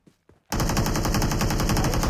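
A loud, continuous burst of automatic gunfire from the video game PUBG on a Moto Edge X30 knocks down an enemy. It cuts in sharply after two faint taps and holds steady to the end.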